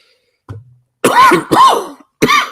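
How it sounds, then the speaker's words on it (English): Three harsh, wet coughs in quick succession after a short throat sound, close to the mic and loud, with brief silences between. "This cough, I mean."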